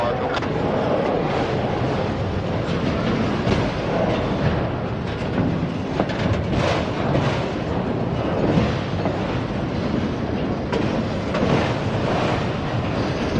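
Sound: long train coming around a bend, K83 locomotive

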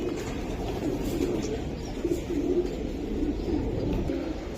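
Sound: racer pigeons cooing

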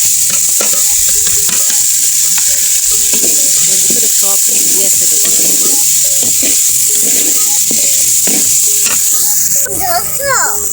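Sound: spices sizzling while frying for pasta

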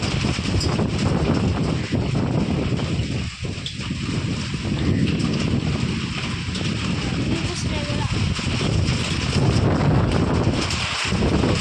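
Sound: strong wind blowing outdoors

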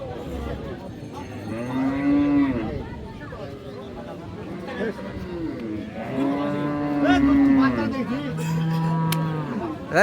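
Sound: cow mooing at cattle market

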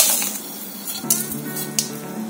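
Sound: urad dal and dried red chillies frying in oil

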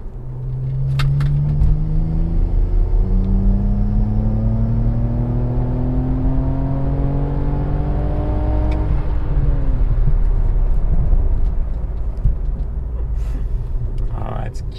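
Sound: BMW E92 335i N54 engine accelerating on a logging pull

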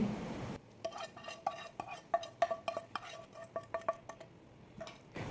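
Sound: stirring tempering into masala puffed rice in a pan

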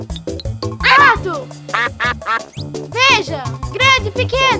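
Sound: cartoon duck quacking

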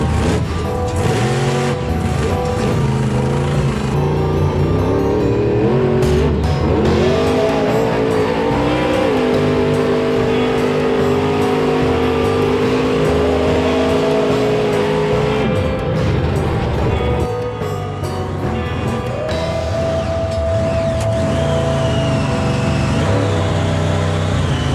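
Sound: Grave Digger monster truck engine driving

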